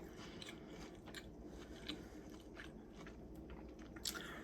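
Close, quiet crunchy bites and chewing on a turkey, cranberry and brie sandwich. A few sharp crunches stand out over a faint, steady background hum.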